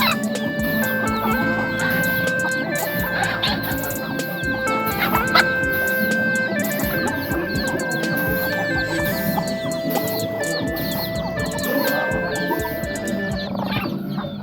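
Striped native chickens cluck around a rural forest-village home, a busy layer of farmyard calls that continues throughout against a dense outdoor background.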